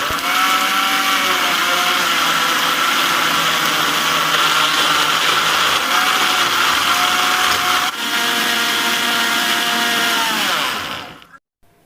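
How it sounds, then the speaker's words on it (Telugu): A mixer grinder runs at high speed, blending watermelon with sugar, ice and a little water in a loud, steady whirring drone for about eleven seconds before it winds down and stops. "ఈ విధంగా ఒక 2-3 నిమిషాలు గ్రైండ్ చేసుకున్నామంటే హై స్పీడ్లో ఈ వాటర్ మిలన్ అంతా కూడా బాగా జ్యూస్ అవుతుంది."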